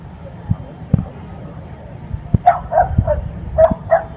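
A small dog gives a string of short, high yips and barks, spaced unevenly over a few seconds, close by, with soft thumps in the background.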